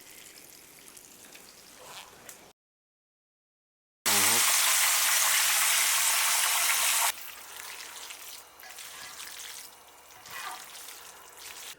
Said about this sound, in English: we're just going to fry them up 8, 9, maybe 10 minutes depending on the size of the thighs